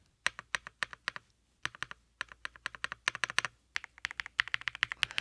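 Rapid clicky keystrokes typed in bursts with short pauses, close and crisp, no voices.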